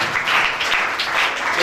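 Congregation applause rings out at a Catholic church Christmas program in Faisal Town, Lahore: a dense, steady burst of many hands clapping together, loud and close, with no voices over it.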